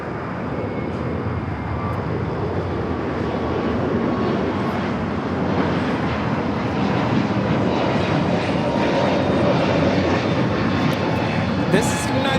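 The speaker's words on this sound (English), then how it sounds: "United A321 Neo now taking off." United Airlines Airbus A321neo taking off at Los Angeles LAX, a broad sustained engine roar that builds gradually and stays loud throughout, with a voice talking over it.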